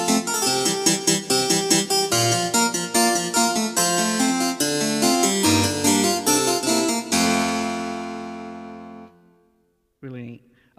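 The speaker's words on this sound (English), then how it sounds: "Okay, so let's go to now wide harpsichord, and it sounds like this." Casio MZ-2000 keyboard playing its wide harpsichord sample: a busy, plucky passage of quick notes that ends on a long decaying chord, followed by a short burst of speech.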